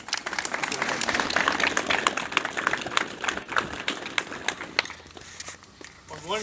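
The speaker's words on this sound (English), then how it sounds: "So I want to give you a big round of applause for Michael" An audience applauding, a dense and sustained wash of clapping from a crowd that stays loud and then begins to thin toward the end.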